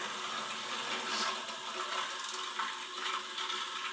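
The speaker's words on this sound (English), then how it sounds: "It's definitely circulating the water." Water rushes and churns steadily through a Grundfos UP 15-29 SU circulator pump, a continuous watery hiss with a faint mechanical hum, close by and without speech.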